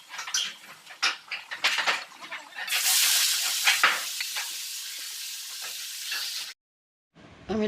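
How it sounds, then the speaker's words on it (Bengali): Garlic frying in oil for dhenki shak: scattered light clatter of stirring at first, then a loud, steady hiss of sizzling that holds for several seconds before cutting off abruptly. A short burst of sound follows. "রসুনটা হালকা লাল করে ভাজা করে নেব"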